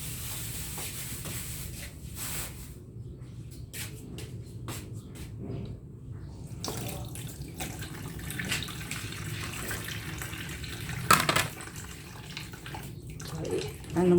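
Running tap water splashes over fish being washed in a home kitchen sink, a steady close hiss with some brief clatters and a louder splash near the end, and a voice speaks faintly at moments.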